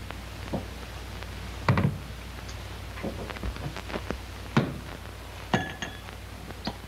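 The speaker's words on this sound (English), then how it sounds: "you give me a tall glass and a piece of ice and a full bottle of whiskey" A tall glass, a piece of ice and a full whiskey bottle clink in a few sharp, separate taps and rattles, close by against faint background noise, with no talk.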